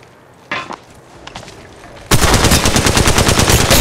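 Automatic weapon fire in the Apex Legends Mobile shooter game. A few short shots are followed by a loud, sustained rapid burst of close machine-gun fire that fills the second half.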